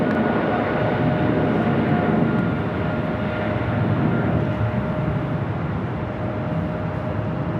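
An American Airlines Boeing 777 at Los Angeles International Airport gives off a steady, loud jet engine roar that holds evenly throughout with no voices.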